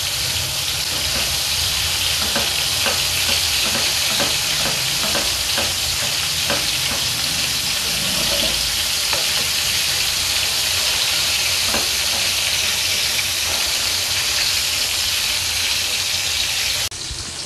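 A spicy white sauce with soy sauce sizzles steadily in a pan while being stirred, the close, constant frying hiss punctuated by a run of light utensil taps.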